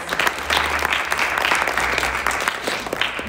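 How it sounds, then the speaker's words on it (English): A concert audience applauds young artists with steady, dense clapping that holds loud and even throughout, a few cheers mixed in. "a big round of applause to these young artists"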